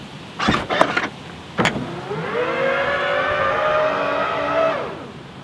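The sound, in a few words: Hansshow aftermarket power frunk opening on Tesla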